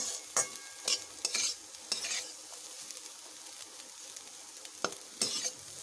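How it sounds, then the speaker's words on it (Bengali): Potato pieces fry in hot oil for a bitter gourd curry as a spatula stirs and scrapes the pan in short, sharp bursts over a soft, continuous sizzle. "এবার আমি আলুগুলোকে ভালোভাবে ভেজে নেব"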